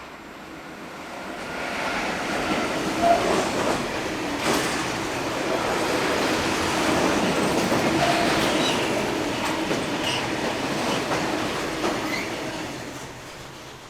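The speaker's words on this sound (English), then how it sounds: "Belgian operator Linias has 186385, in charge of this set of tanks from Recklinghausen to Bühnewerke." A freight train of tank wagons hauled by Lineas locomotive 186385 rolls through Hannover-Linden station, a loud steady rumble with rhythmic wheel clatter over rail joints and occasional squeals, swelling and fading slightly as the wagons pass close by.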